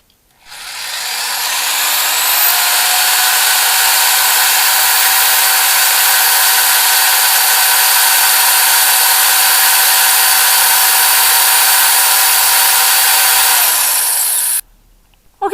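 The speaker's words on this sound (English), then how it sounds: "Okay, I got those drilled out and new bolts in" A power drill whines steadily at high speed for about fourteen seconds while drilling out old bolts on a truck, loud and close, spinning up at the start and stopping abruptly near the end.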